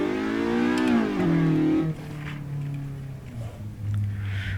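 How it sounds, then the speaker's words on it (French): A car engine in the Assetto Corsa racing game revs up, climbing in pitch, then drops as it shifts and settles into a lower steady drone, loud and up close with no talking. "c'est une voiture, j'aime bien le son, ça monte bien dans les tours"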